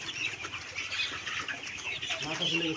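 Sick chickens with swollen heads from a cold cluck continuously in a dense, crowded chorus nearby, with some wing flapping and rustling mixed in.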